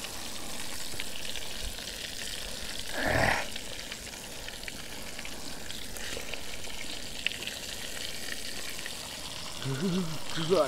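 Crucian carp sizzle and crackle steadily in a hot pan outdoors, a soft continuous frying hiss with a brief louder splutter partway through.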